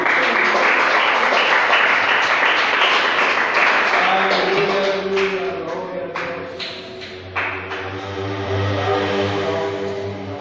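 Church congregation applauding during a sermon, a loud, dense clapping wash that thins out after a few seconds into scattered claps over low sustained music or voices.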